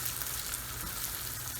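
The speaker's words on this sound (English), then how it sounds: "And I'm adding my cumin seeds now." Cumin seeds sizzle steadily in hot oil in a pan, a soft, even crackling fry heard close up with no talking.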